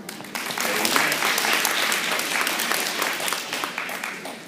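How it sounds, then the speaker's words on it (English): An audience at a Black History event claps its hands in a steady, dense wash of applause lasting several seconds, with voices faintly mixed in. "If you agree, just clap your hands right now"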